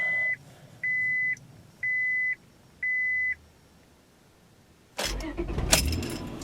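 Four evenly spaced seatbelt chimes sound in a quiet cabin, then a 1998 Honda Accord with a low battery cranks and fires up loudly, settling into a running idle.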